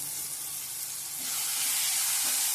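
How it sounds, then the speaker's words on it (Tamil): Prawn thokku sautéing with mint leaves in a pan gives a steady close sizzle and hiss that swells louder partway through, with no talking. "நல்ல வாசனைக்காக தான் புதினா போட்டு வதக்கிறது"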